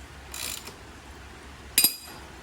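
A ratchet wrench cracks loose a bolt on a Honda CRF250L motorcycle, a brief burst of ratcheting clicks followed by a sharper, louder clatter of the pawl near the end, close by with no talk.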